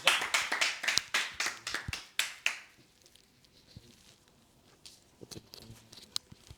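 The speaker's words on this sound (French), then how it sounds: "on applaudit pour l'imam" Applause for an imam at a gathering, a few hands clapping in a quick, close, sparse rhythm for about two seconds, then dying into faint scattered taps.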